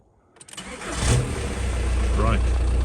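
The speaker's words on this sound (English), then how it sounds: "car starts" A VW Caddy 1.9 SDi diesel engine cranks and catches, rising within a second into a steady, loud idle that continues to the end, with a brief voice heard faintly over it.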